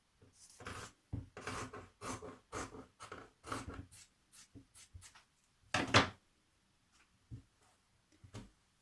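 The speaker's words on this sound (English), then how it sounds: "Now you're going to trim away the excess here." Scissors trim excess fabric from a pair of sewn lounge trousers, giving a run of short crisp snipping and rasping cuts in irregular bursts, close and fairly quiet, with pauses between them.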